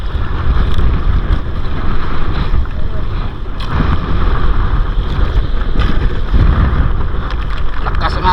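A boat battles big waves in a strong amihan wind, with loud, constant wind roar buffeting the microphone over the rushing and slapping of water, unbroken from start to finish.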